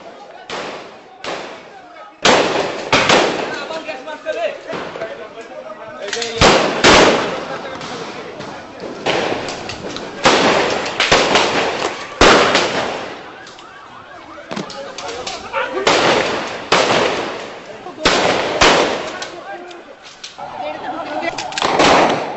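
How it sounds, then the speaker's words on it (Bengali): Rapid bursts of gunfire, tear gas shell launches and grenade explosions at night in Motijheel, Dhaka, during the crackdown of 5 May 2013 at Shapla Chattar; loud repeated blasts follow each other in irregular clusters with crowd noise between. "হাজার হাজার রাউন্ড গুলি, টিয়ার শেল, গ্রেনেডের মুহুর্মুহু শব্দে প্রকম্পিত হয়ে ওঠে রাতের মতিঝিল"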